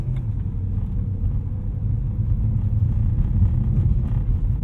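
Tuned 2010 BMW E92 M3 with a DCT transmission driven on the road, a steady deep engine drone and rumble heard from inside the cabin, continuous and fairly loud with no talking.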